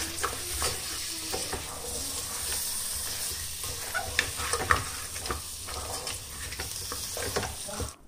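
Masala with coriander and mint leaves being stirred in hot oil for a mutton dum biryani, a steady close sizzle broken by frequent scraping strokes of the spoon, with no talking.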